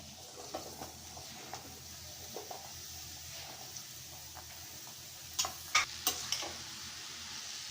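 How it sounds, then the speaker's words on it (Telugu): Bottle gourd pieces frying with browned onions in a curry pan, a soft low sizzle with scattered ticks and scrapes of stirring, a few sharper clacks near the end. "సొరకాయ ముక్కల్ని ఈవెన్గా కలుపుకుందామండి"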